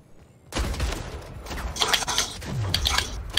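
Gunfire in the Splitgate video game, a dense rapid burst of shots with metallic mechanical clatter and whooshing effects, loud and continuous for about three seconds.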